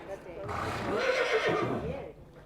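A horse neighs loudly at a large animal shelter, a long whinny with wavering pitch lasting about two seconds, close by, with faint hoof clops and a voice speaking around it.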